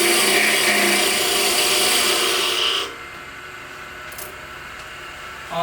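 A wood lathe tool cuts a spinning top blank, giving a loud steady rasping shear for about three seconds before the cut stops and only a quieter hum remains.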